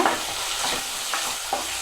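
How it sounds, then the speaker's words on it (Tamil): Onions sizzle steadily in a heavy pan for parotta salna while a utensil scrapes and stirs them in a few quick strokes. "வெங்காயம் நல்லா வதங்கட்டும்."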